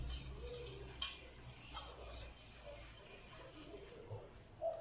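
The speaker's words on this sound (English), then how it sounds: "Whisk this up nicely." Ghee that is still semi-solid is whisked with icing sugar in a bowl, with light scraping and clinking utensil taps at an irregular pace, fairly faint and close.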